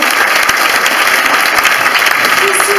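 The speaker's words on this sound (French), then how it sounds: "je voulais vraiment vous applaudissiez" An audience applauds at a French-language gathering, producing loud, sustained, dense clapping throughout, with voices faintly mixed into the crowd noise.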